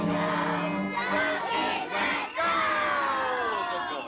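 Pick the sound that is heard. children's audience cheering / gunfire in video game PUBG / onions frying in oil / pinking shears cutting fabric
children's audience cheering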